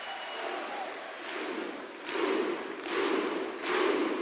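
A wrestling arena crowd in Bologna roars and cheers at a tag-team match, a sustained wash of noise that surges in several rising waves, loudest toward the end.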